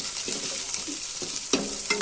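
Curry leaves sizzle in a hot tempering of oil in a pan, with green chillies and onion going in alongside. A steady, close frying hiss runs throughout, broken by a few louder crackles and stirring scrapes, with no voices.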